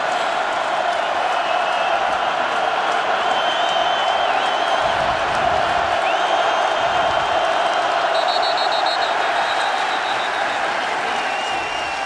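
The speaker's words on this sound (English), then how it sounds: "Crowd noise." Home stadium crowd roaring at a college football playoff game between Northern Iowa and North Dakota State, a loud, sustained wall of noise with whistles and shouts cutting through.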